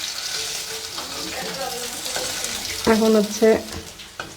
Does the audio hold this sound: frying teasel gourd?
yes